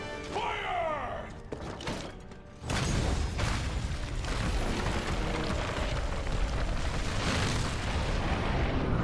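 The Dragonator cannon fires in the Monster Hunter World video game: a loud, sudden blast gives way to a sustained heavy roar and rumble with mechanical clanking, following quieter activity at the start.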